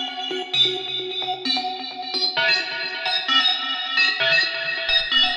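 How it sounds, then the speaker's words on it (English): A dark techno FM synth patch built from three sine waves plays a stepping sequence of bright, metallic, bell-like tones with effects and reverb, loud and alone with no voice. "it's made with FM, so we have just 3 sine waves here"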